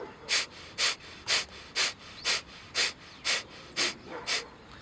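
Rapid, forceful nasal breathing of the breath of fire exercise, done with clenched fists and thumbs out: about ten sharp, evenly spaced exhalations in a steady rhythm, close and alone.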